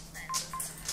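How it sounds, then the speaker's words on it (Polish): Electronic phone ring in The Sims 3 video game: short tonal chirps and beeps repeat in quick succession, clear and close, with no talk over them. "Ach, kurde, znowu telefon."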